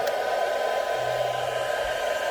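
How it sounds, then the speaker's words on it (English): A hairdryer blows on a BMW E31 headlight to clear fogging, a steady close airy whoosh with a constant motor hum and no voices. "Keep the hairdryer going, drop down the temperature a bit."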